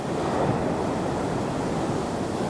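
Sea waves break into white-water surf along a North East shore promenade after a storm, a steady, loud, wind-blown roar of churning water with no pauses or talk.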